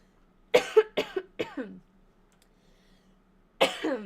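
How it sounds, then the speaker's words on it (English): A series of close, harsh coughs: three quick ones in a row, a pause, then another burst of coughing. "Hold on, I have to cough."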